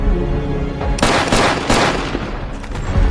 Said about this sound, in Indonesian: Ben tanpa ragu menembak Kyle hingga tewas